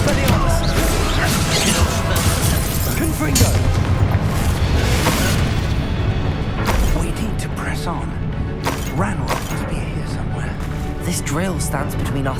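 A Bombarda spell explosion in Hogwarts Legacy booms and crashes through a dense, loud mix of game sound, with voices talking over the action throughout.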